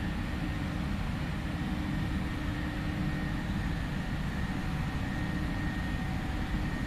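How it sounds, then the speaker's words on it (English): A Boeing 737's jet engines spool up toward takeoff thrust inside a PMDG flight simulator, giving a steady, loud, broadband roar that holds constant from start to finish with no talk over it. "Thrust stable, takeoff. Takeoff thrust set."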